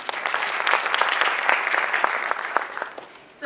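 An audience claps for a book author at a township investment pitch event, a dense sustained round of applause that fades out near the end.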